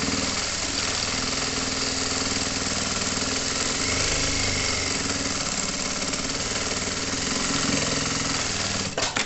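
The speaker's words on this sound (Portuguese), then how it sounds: "Vou passar uma costurinha de segurança aqui só na beirinha, aplicando esse meu forrinho aqui." A sewing machine runs a safety seam along the lining edge of a child's backpack, its motor rattling fast and steady until it stops near the end.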